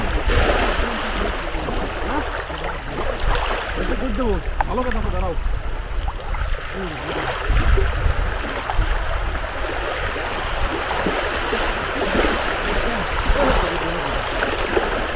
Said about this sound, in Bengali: আছড়ে পড়া ঢেউয়ের সাথে কাদা কাদা আসতেছে